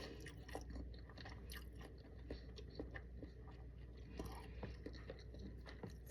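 Food is chewed with a close, wet rhythm of soft crunches and bites repeating every half second or so, alone and without talking.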